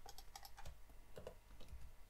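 Quiet typing on a computer keyboard, several light keystrokes in short irregular clusters close to the microphone, with no speech.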